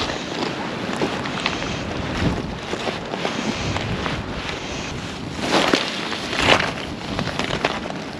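Strong wind blows continuously across the microphone, a rough, full roar that swells in gusts with no voices.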